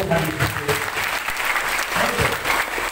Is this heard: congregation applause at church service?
yes